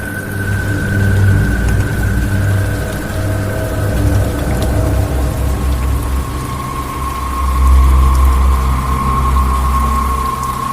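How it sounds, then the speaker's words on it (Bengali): Steady heavy rain hisses throughout, with low rumbling swells that suggest distant thunder; no one speaks. "বৃষ্টি একদম থামছেই না তার সাথে বজ্রপাত হচ্ছে"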